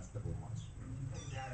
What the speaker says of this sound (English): See kitty kitties.